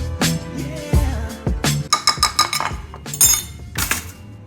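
A utensil mixes beans with salt, pepper and ketchup in a dish, giving a run of sharp, close clinks and scrapes in an irregular rhythm, loud and without talk.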